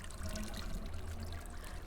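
A quiet water feature at a Japanese ryokan in a Nancy Drew game, a soft steady trickle and gentle pouring over a low hum, faint and continuous with no speech.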